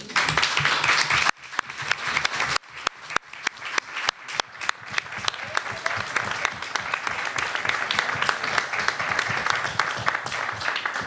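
An audience at a municipal council meeting applauds warmly, with a sustained burst of many hands clapping that briefly drops off and then swells again into steady, dense applause.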